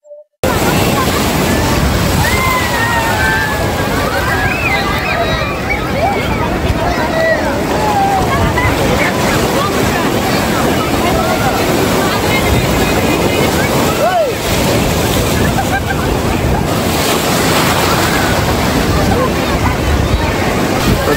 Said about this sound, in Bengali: দেখতে পাচ্ছেন প্রচুর ঢেউ হচ্ছে, প্রচুর।